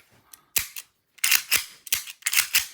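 Sharp, snappy pistol shots from a Tokyo Marui V10 airsoft gas blowback pistol with a full stainless steel Guarder build, about five cracks with brief mechanical clacks, fired at an uneven pace, close and loud.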